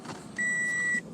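A car's seatbelt warning chime sounds as one sustained electronic tone, clear and steady for about half a second, over low cabin road noise while driving.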